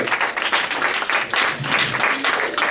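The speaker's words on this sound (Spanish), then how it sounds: "Denle un fuerte aplauso a Dios." Congregation at a church service gives loud, sustained applause, a thick wash of many hands clapping with rhythmic surges, close and full throughout with no talking over it.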